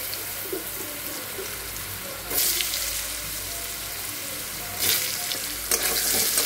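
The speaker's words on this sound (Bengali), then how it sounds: "আলু ভাজা হোক।" Potatoes fry in hot oil with tempered cumin, giving a steady hiss broken by two louder bursts of crackling as ingredients are stirred or added.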